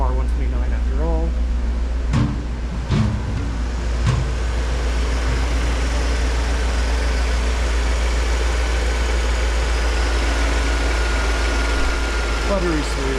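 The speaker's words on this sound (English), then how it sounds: "We'll go around to the back with some exhaust note, which really isn't much." A low, steady V8 exhaust rumble from a 1991 Mercedes-Benz 500SL (R129) at idle, smooth and even, heard from the rear, with a brief voice near the start.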